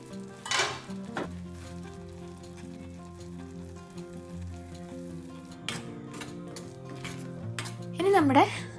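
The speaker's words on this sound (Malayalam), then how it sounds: "മസാലപ്പൊടികൾ, അത് മഞ്ഞൾപ്പൊടി, മുളക് പൊടി, മല്ലിപ്പൊടി, ഇത്രയും സാധനങ്ങൾ ജസ്റ്റ് ഒന്ന് നമ്മൾ ചൂടാക്കിയിട്ട് ഇടാം." Turmeric, chilli and coriander powders heated in a pan for egg curry, with a soft sizzle under repeated scraping and clinks of a spoon against the pan, plus a brief voice near the end.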